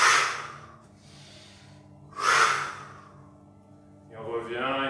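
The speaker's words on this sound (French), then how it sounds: "Et de temps en temps, on prend une grande inspiration." A deep breath is drawn during a slow qigong exercise, heard as two loud, close breathy inhalation bursts separated by quieter pauses over a low sustained tone, followed by a voice.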